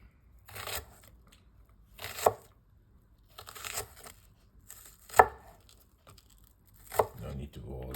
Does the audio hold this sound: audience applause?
no